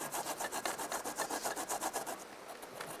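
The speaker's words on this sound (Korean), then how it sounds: "요거 배를 네. 동생을 먼저 갈아. 갈아요? 어. 강판에서 일단 갈아요." A pear is rubbed back and forth on a kitchen grater in quick, rhythmic rasping strokes, close and fairly quiet, slowing near the end.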